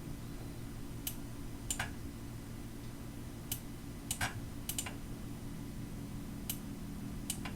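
Computer keyboard shortcut presses during InDesign work, heard as a handful of soft, scattered key clicks over a steady low hum, with no talking.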